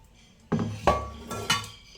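Bowls and metal utensils clink together in a few distinct knocks and rattles, close by, with no talking.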